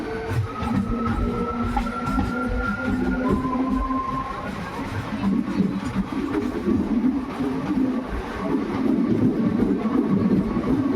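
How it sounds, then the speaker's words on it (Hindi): A MEMU passenger train pulling out of Sogariya railway station, its wheels rolling and clattering on the rails at close range with a steady rumbling drone and faint tonal whine, no talk. "2 मिनट के स्टॉपेज के बाद मेमो डिपार्चर हो गई है सोगरिया रेलवे स्टेशन से"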